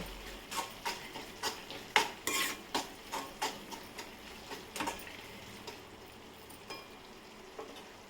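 Tomato curry, village style, being stirred in a pan, with repeated soft scraping and clinking strokes of a spoon in a steady rhythm, close and fairly quiet over a faint sizzle.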